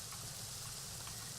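Steady rain in a Minecraft modpack world, a soft continuous hiss with a low rumble underneath, constant and unbroken throughout.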